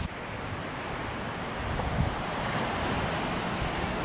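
Waves washing onto a Lake Michigan beach in the Nordhouse Dunes wilderness, a continuous broad roar of surf mixed with gusting wind buffeting the microphone, steady and fairly close.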